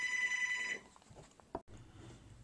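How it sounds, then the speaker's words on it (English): A telephone rings with a bright electronic trill for under a second, then cuts off, leaving quiet room noise and a few soft knocks of handling. "I got distracted with the phone call"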